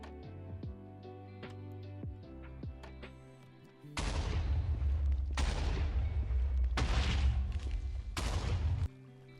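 TNT blasts go off in a Minecraft tree farm after its lever is flipped. Sparse plinking blocky sounds come first, then three long, loud, roaring bursts of explosions follow close together.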